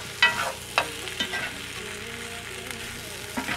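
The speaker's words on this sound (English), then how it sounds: "Now I'll give this another good stir." Spiced potato curry with diced curry leaves stirred in a pan, a steady soft sizzle broken by a few sharp spoon scrapes and knocks against the metal, with no talking.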